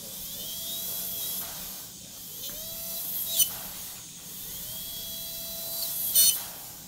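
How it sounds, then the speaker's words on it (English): A dental GrindBur bur running at medium speed whines in three rising, sustained bursts as it marks the inside of a denture during a chairside soft reline, close and fairly quiet with brief gaps between. "take my GrindBur, activate it on medium speed, and just make a mark right inside of there"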